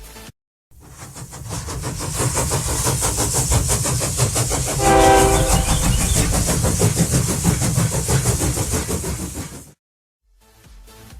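A meme train sound effect roars in loud and close for several seconds, with a blaring train horn swelling in the middle, before cutting off abruptly.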